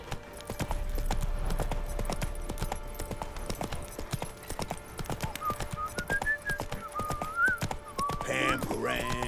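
Roach, the horse in The Witcher 3, trots with quick repeated hoofbeats up close, the sharp clip-clop steady throughout, while a whistled melody rises over the last few seconds.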